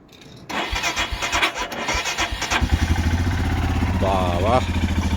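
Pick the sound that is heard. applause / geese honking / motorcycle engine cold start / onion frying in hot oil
motorcycle engine cold start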